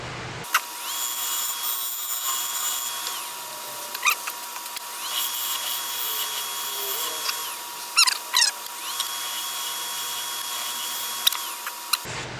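Rotary tool fitted with a fresh burr carving old walnut or poplar, a steady high whine running almost continuously with brief pitch shifts and a few sharp clicks as the bit bites into the wood, close and alone.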